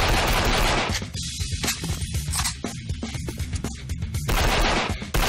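Shotgun fire in the video game Banzai Escape, loud close blasts in rapid succession with short gaps, heavy and continuous bursts from start to end, no talking.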